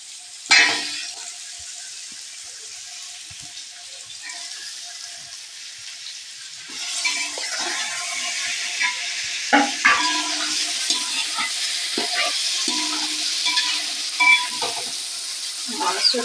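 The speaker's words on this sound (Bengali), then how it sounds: "মাংসটা খানিকক্ষণ আমি বেশ নাড়তে থাকবো।" Chicken for biryani is stirred and fried in a pan with spices, giving a steady hissing sizzle and bursts of scraping stir strokes that grow busier partway through, close and moderately loud, with no talking.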